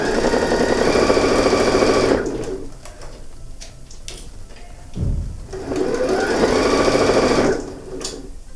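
A sewing machine stitches a patchwork coin purse seam, running steadily for about two seconds, pausing, then running again in a second long burst, loud and close, with no talk over it.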